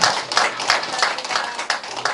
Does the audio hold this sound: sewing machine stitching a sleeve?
no